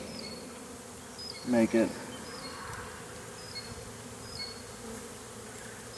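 Honey bees hum and buzz around a small nuc hive box outdoors, a continuous low drone with a few brief louder passes close by and a couple of spoken words in the middle.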